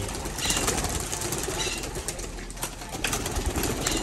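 Homing pigeons in the open with wingbeats and soft cooing over steady outdoor background noise, a brief flurry as a tippler pigeon takes off.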